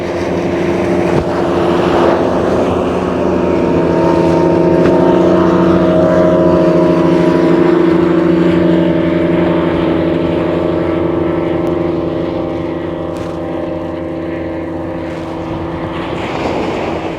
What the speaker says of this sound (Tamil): அதில் பாருங்கோ, அதில் 2 படகுகள் பாய்ந்தடித்து கொண்டு போகுது